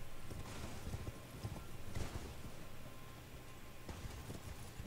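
Torrent, the spectral steed in Elden Ring, gallops with a steady hoof clatter that stays in the foreground, backed by thick in-game rumble and a few sharper accents.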